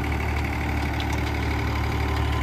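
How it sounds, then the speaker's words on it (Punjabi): A tractor runs at the PAU Kisan Mela farm fair in Ludhiana, 2024, its engine idling in a steady, even rumble with a low vibrating hum throughout and no voices. "ਉੱਧਰ ਸਾਹਮਣੇ ਵੀ ਦੇਖੋ ਟਰੈਕਟਰ ਚੱਲ ਰਿਹਾ"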